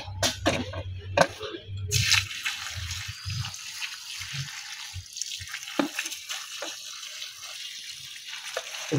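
Water splashes and drips intermittently as mustard greens are swished and rubbed in a basin, with irregular sloshing bursts close by.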